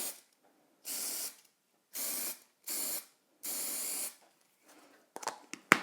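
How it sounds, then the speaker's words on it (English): Four bursts of spray adhesive hissing from an aerosol can, each lasting about half a second to a second, separated by silence, followed by a few faint clicks and rustles. "It's a typical spray adhesive."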